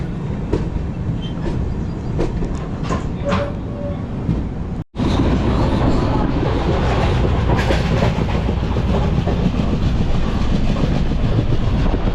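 A passenger train on the Konkan line nears Khed railway station, its loud, steady rumble and rhythmic clickety-clack of wheels filling the cabin, broken by one brief dropout before the roar resumes.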